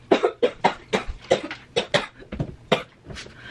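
A person coughs hard after choking on spit, a rapid run of about a dozen loud, close hacking bursts in an uneven rhythm with no words.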